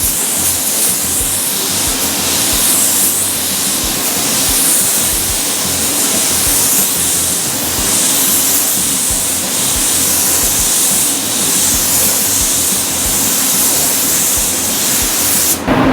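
A spray gun lays automotive clear coat onto a panel, producing a loud, continuous airy hiss that runs unbroken and close up for the whole stretch, with no speech over it.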